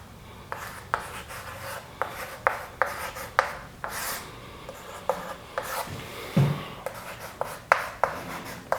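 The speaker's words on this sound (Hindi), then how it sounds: "यहाँ लिखते हैं" Chalk or marker scratches and taps across a board during a Hindi grammar lesson, a run of short, crisp strokes in an irregular rhythm with brief rubbing pauses and no talk.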